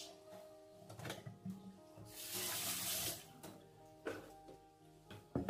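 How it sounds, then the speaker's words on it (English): Running tap water splashes over a mango being washed by hand in a sink, a steady faint stream with rubbing and handling sounds and a louder gush in the middle. "this is going to be the second time that I'm washing this fruit"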